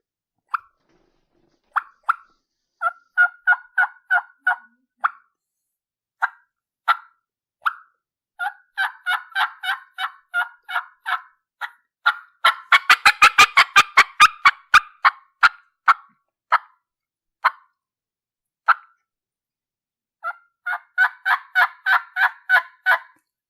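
A diaphragm mouth call imitates a turkey hen's fly-down cackle: sharp, clucking yelps that come in irregular bursts, speed up into a rapid rolling flurry in the middle, then trail off and return in quick runs, loud and close with no talking.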